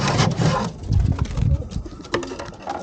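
Pigeons in a loft, including a newly added male, coo in low, throaty bursts close by, with soft rustling and patter between calls.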